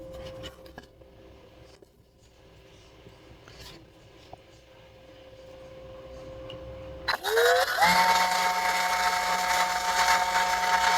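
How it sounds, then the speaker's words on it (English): Quiet rustling and faint handling noises build gradually, then a power drill whirs up abruptly and runs loudly at a steady pitch while building a small bench. "I'm using my husband's drill."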